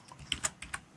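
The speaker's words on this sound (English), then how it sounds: "something like pressing enter and typing here the print function" Fingers tap quickly on a computer keyboard while Python code is typed, giving a few sharp, close keystrokes in a quiet room with no talking.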